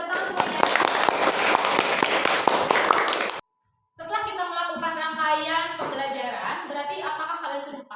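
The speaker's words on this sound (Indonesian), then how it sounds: "Tepuk tangan semuanya" Classroom students applauding their presentations on food chains: a dense burst of many hands clapping for about three seconds, stopping abruptly, followed by a short silence and then a voice talking.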